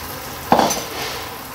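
Barnyard millet dosa batter is poured onto a ghee-greased pan, giving a brief sharp sizzle burst that fades into a soft steady frying hiss.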